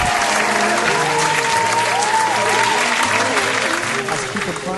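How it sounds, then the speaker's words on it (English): Sustained audience applause rings out on a talk show, a dense, loud wash of clapping that holds steady before tapering slightly at the end, with a voice speaking over it. "Can I have a round of applause for that?"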